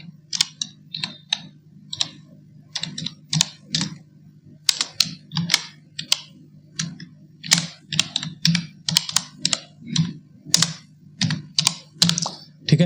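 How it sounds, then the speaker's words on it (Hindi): Steady keystrokes on a computer keyboard as an email address is entered, crisp clustered clicks in irregular bursts with short pauses, close and clear over a faint low hum. "मैं अपना ईमेल एड्रेस लिख देता हूँ"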